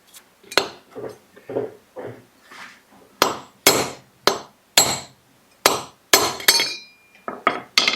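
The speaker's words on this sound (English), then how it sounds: "Looks like I can use a 10mm socket, a hammer, and we'll use a socket to catch it." Hammer blows drive a Cub Cadet mower spindle bearing out through a 10mm socket, a dozen or so sharp metallic clanks in uneven rhythm, softer taps at first, then louder ringing strikes, close and alone with no talking.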